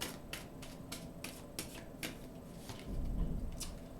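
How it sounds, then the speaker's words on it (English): Tarot cards being shuffled by hand during a love reading, a run of quick crisp riffling flicks and soft slaps spread across the few seconds, fairly close and moderately quiet with no talking. "One more shuffle."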